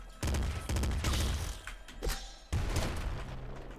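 Disc gun firing in the video game Nuclear Throne, a few loud, punchy bursts with abrupt onsets separated by short gaps, sounding close and heavy.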